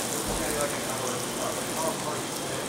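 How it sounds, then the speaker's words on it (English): Hot pan crackling and popping while bluefin tuna cooks with Hawaiian sea salt, a dense, continuous sizzle of small snaps, fairly close and steady, with no one talking. "I don't know if this stuff is hot enough, but it's definitely snap, crackling, and popping."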